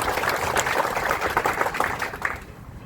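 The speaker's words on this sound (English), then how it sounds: "So please give them a round of applause." A crowd gathered outdoors for a bridge ribbon cutting claps steadily in a dense, even patter that fades out toward the end.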